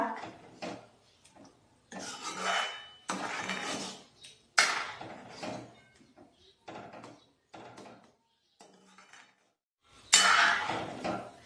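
A spoon scrapes and clinks in a pot as salt is mixed into a Marathi okra dish (bhendiche lal), coming in separate close bursts of stirring with quiet gaps between them.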